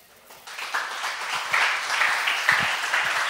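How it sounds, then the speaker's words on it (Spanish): Applause rises from a church congregation during a Sunday general meeting, building into steady clapping from many hands at a moderate distance, with a few louder claps near the end. "¿Le doy un aplauso a Jesús?"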